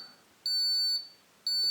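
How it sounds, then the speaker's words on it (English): Arduino garage burglar alarm emitting piercing high-pitched beeps, two long tones about half a second each separated by a short gap, clear and close in a quiet room. "6 seconds and the alarm will turn on."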